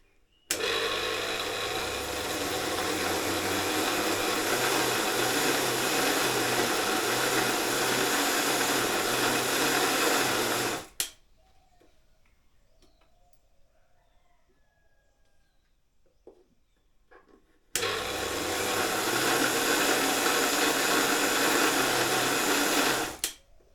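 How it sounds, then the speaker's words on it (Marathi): A mixer grinder grinding soaked sago whirs loudly for about ten seconds, cuts to near silence with faint clatter, then roars again for another stretch. "तर आपण हे मिक्सरला लावून घेणार आहोत."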